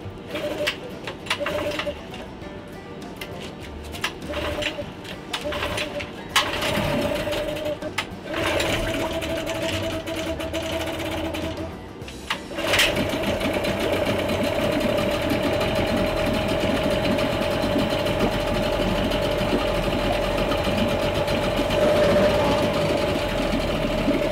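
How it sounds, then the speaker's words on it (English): A small outboard boat motor sputters and catches, then runs with a steady rapid buzzing hum, loud and close throughout. "Surprisingly, the boat starts, which is interesting."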